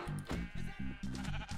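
A goat in the Minecraft video game bleats in a quick series of short, nasal, buzzy calls, loud and close with no talking over them.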